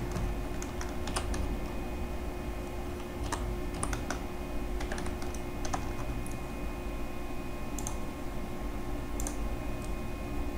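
Steady typing on a computer keyboard while designing a flower shop boutique logo, quick irregular key clicks running continuously over a constant low background hum, close and fairly quiet, no talk.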